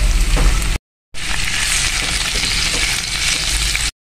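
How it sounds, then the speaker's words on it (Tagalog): Garlic, onion, chili flakes and ground pork sauté for mapo tofu, giving a loud close crackling sizzle cut by a short silent gap, then steady again until an abrupt stop. "mag-saute na ng ating garlic at onion"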